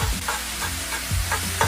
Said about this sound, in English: Keep breaking it up, letting it cook even.